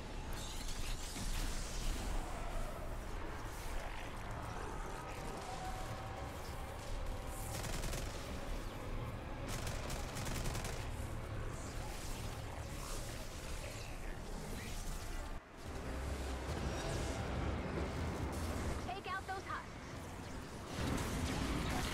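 Rapid bursts of video game gunfire from Fortnite ring out nearly nonstop during an attack on a base, loud and dense throughout with a brief drop partway, mixed with game effects and some voice.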